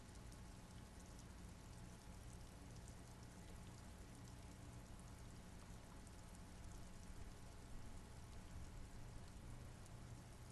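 Rain falls steadily in the video game Disco Elysium, a faint, even wash of hiss with no breaks and no voices.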